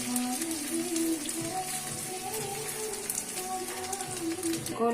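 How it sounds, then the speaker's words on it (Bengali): Luchi, a puffed wheat flatbread, deep-frying in hot oil, a dense crackling bubble that holds steady throughout, with faint background tones and no clear talk. "এবার লুচিটা আমি ভেজে নিচ্ছি।"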